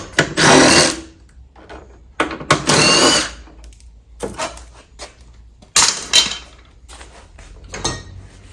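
A power tool fastening new hood hinges onto a wrecked 2016 Mustang GT, several loud close bursts of a few seconds each separated by quiet gaps, no talk.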